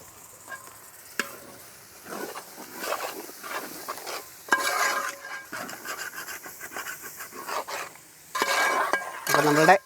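Pork for Angamaly-style varattiyathu being stirred and fried in a pan with a ground paste of roasted coconut, coriander and dried red chilli, giving steady scraping and sizzling with louder bursts near the end, close and without talk.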